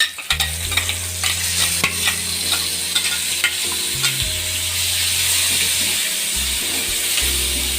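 Ground spice paste with turmeric sizzles steadily in hot tempering oil for buttermilk sambar while a utensil stirs and scrapes the pan in repeated strokes.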